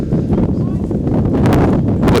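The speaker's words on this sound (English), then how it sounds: "probably winds gusting up to 20 and 25 miles an hour" Strong gusting wind blows across an outdoor college soccer field in Quincy, Illinois, on a cold day, rumbling hard against the microphone in a loud, continuous roar with surging buffets.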